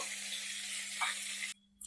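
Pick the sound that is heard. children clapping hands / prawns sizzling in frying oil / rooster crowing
prawns sizzling in frying oil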